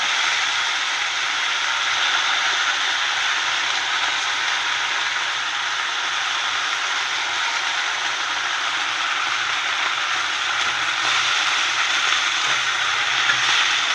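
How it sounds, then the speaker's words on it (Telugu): Curry leaves sizzle and crackle in hot tempering oil for a tamarind pulusu, a steady, loud, dense frying hiss that holds evenly throughout with no voices. "ఇప్పుడు మనం బాగా వేగింది కదా ఈ పోపు, ఇందులో మనం కరివేపాకు వేసుకుందాం."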